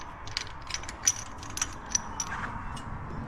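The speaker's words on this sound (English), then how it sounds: "I bought this little tube spanner specifically for doing this." A small tube spanner works a fitting during rear guard wiring, giving a quick run of light metallic clicks and ticks at close range with no voices.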